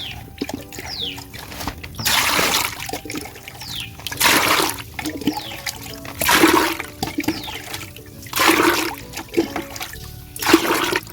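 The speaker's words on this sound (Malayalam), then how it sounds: "നമുക്ക് ഇതിൻ്റെ ഇരട്ടി വെള്ളം നമുക്ക് ഇതിനെ ഒഴിച്ചു കൊടുക്കാം ഇതിലേക്ക് ഒഴിച്ചു കൊടുക്കാം" Water splashes into a bucket of fermented rice water in about five separate pours, each a loud gushing burst with short quiet gaps between them.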